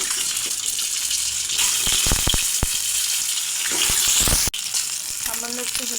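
Duck eggs frying in hot mustard oil in a pan, giving a loud, steady sizzle throughout with occasional sharper crackles and a brief dip near the end.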